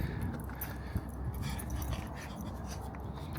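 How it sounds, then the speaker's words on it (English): A big dog pants and faintly whimpers in quick, breathy rhythm, soft and steady against outdoor background noise. "See that big old dog?"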